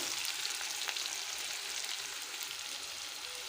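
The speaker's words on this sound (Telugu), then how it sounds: "తరుక్కున్న ఉల్లిగడ్డలు వేస్తున్నా" Finely chopped onions fry in a pan for chapati noodles with a steady, close hiss and crackle of oil that stays even throughout, with no voices.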